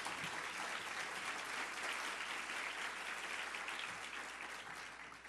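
An audience stands and applauds two program participants at a mentoring charity event, a thick continuous wash of clapping that stays even throughout and thins slightly near the end, heard faintly as if from a distance.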